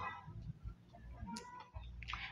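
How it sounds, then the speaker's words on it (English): Chicken clucking in the Minecraft video game, short repeated clucks sounding in the background over quiet game ambience, with no talking. "don't mind the chicken, the background. The chicken is so annoying."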